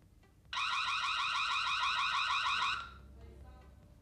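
A Reolink outdoor waterproof solar-powered IP security camera sounds its motion-detection alarm, a loud pulsing electronic siren that blares steadily for about two seconds and then cuts off, with faint background noise afterward.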